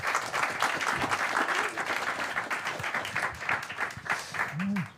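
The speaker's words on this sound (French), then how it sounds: "On peut applaudir Jérémy Saint." A studio audience at a live public cinema talk show applauds a guest, steady crowd clapping throughout with a voice briefly audible through it near the end.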